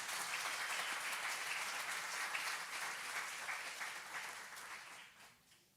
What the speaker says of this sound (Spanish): Un aplauso bien fuerte para mi Señor.